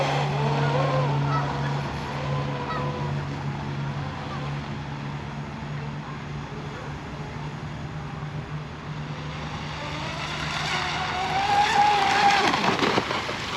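A J&R Marine H26 fiberglass RC hydroplane boat runs at about three-quarter throttle, its small engine holding a steady buzzing whine that swells louder near the end as it passes close.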